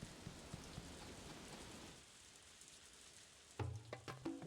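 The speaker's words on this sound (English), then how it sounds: "It's raining." Soft rain falls in the farming video game Story of Seasons: A Wonderful Life, a faint steady patter that thins out midway before a few brief, sharper game sounds near the end, with no talking.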